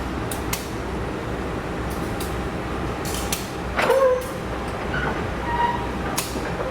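The Dharmawangsa Express executive passenger train runs on the rails in the morning, a steady rolling rumble with creaks and clanks and occasional sharp metallic squeals, heard from inside a carriage with no talk.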